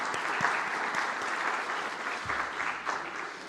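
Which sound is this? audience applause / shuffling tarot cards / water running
audience applause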